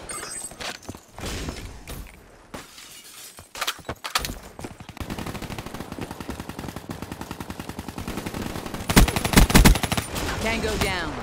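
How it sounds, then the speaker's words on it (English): Video game combat with enemy gunfire, bursts of rapid automatic shots and single cracks rattling in quick succession, loud and close, intensifying into dense volleys with shattering impacts. "Enemy fire."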